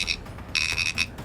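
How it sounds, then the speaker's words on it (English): An old-school thumper vibrating buzzer, a card cheat's signalling device, rattles inside a glass in short buzzing bursts, a couple of brief pulses then a longer one, fairly quiet and close. "Casino protection expert Sal Piasanti showed me an old-school buzzer called a thumper, once used by card cheats."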